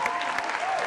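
An audience applauds a singer at a live music show, a steady, dense wash of clapping filling the whole moment at close, fairly loud level.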